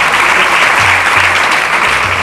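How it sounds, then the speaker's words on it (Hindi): Church congregation clapping loudly during a Hindi sermon, a dense sustained wave of applause from many hands, steady throughout. "ताली बजा दीजिए जोरदार यीशु मसीह के नाम।"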